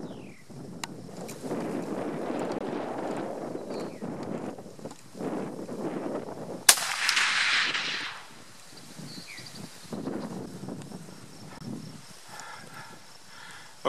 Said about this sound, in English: so this will be the second shot with our Parker 300 grain Match Hunter